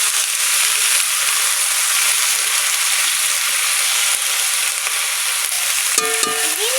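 Drumstick leaves and potatoes are added to a pan with onion and green chillies, producing a steady, fairly loud frying hiss that runs throughout, with a brief clatter near the end.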